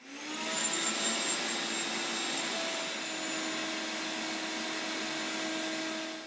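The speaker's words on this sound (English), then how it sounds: "I'm going to just use my heat gun and be careful not to get it too close just to dry it off" A heat gun blows a steady, even whooshing hum while drying neoprene wader boots, continuous and fairly close throughout with no breaks.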